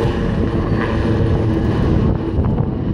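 Royal Navy Lynx helicopters flying in close formation at the Yeovilton air day, a loud, steady broadband engine and rotor roar, heavy with wind noise.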